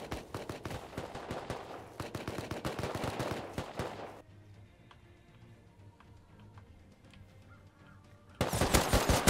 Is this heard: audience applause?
no